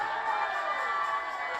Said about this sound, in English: Give the Lord a shout of praise.